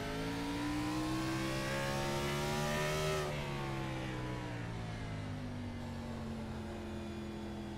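A race car engine in a sim racing video game at Martinsville Speedway revs up steadily, pitch climbing for a few seconds, then drops off as it shifts and winds down, loud and continuous.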